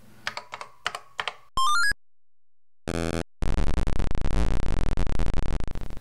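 Keys clatter in a fast, loud burst on a Macintosh 512K keyboard during a typing game, following short beeps, rising electronic tones and a buzzing game sound.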